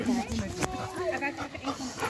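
Golden retriever dogs and puppies in a busy indoor setting, with whimpers and yips mixed among close voices as people talk over them.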